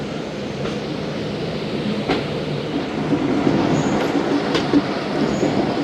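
Musapak Express passenger train rolls into Raiwind Junction at night, a steady close rumble of wheels and rail with faint squeals and clicks building slightly, no voices.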